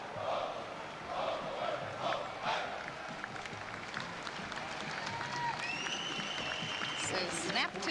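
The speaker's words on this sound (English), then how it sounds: "The crowd applauding as they go by, as they march on." A parade crowd at the 1997 Three Rivers Festival applauds marchers as they pass, a steady wash of clapping and cheering outdoors with a commentator talking over it and a whistle-like tone near the end.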